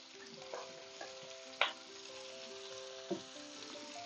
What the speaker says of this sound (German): Wird alles schön mit angebraten.